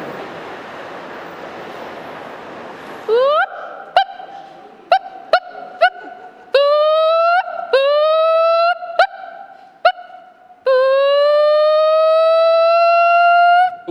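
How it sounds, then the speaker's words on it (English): Urban sirens wail out across a city street, loud rising tones that start in short repeated bursts and then swell into a longer sustained howl. "we're going to be looking for exotic urban sirens"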